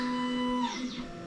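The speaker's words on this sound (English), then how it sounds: "You can hear the 3D printer in the background printing more parts." A 3D printer runs in the background while printing robot parts, giving a steady mechanical hum with tonal stepper-motor whines that shift partway through, faint and continuous.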